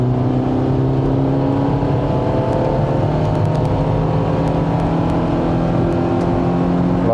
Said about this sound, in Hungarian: Lassan üveghangon megy az autó.